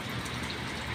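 Steady rain falls in a monsoon downpour under dark grey clouds in Thailand, a dense, even hiss of drops filling the whole moment with no voices.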